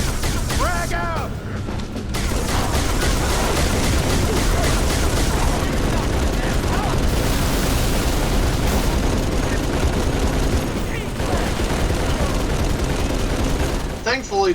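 Sustained turret gunfire and booming explosions fill a Halo 3 firefight, dense and loud throughout, with voices talking over the battle.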